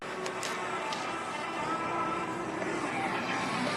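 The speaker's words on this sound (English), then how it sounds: "Here comes the airplane." An airplane passes overhead as a steady broadband roar at moderate level, with faint voices and a few brief clicks nearby.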